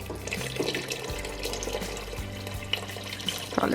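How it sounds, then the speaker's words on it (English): Water poured into a pot of stuffed peppers for a Slovenian paprika dish, a faint steady splashing trickle with a few soft clunks, quiet and close. "And we're going to be adding water till they're covered."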